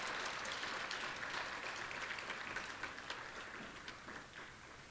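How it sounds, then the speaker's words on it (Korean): A church congregation applauds steadily during a Wednesday service, a dense patter of clapping that gradually tapers slightly toward the end. "다시 한번 뜨거운 박수로 환영해 주시기 바랍니다."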